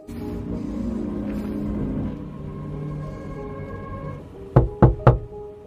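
Three quick, sharp knocks on a car's window glass sound close by near the end, after a low engine-like rumble.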